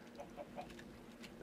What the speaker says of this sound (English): now all we're going to hear is chickens in the background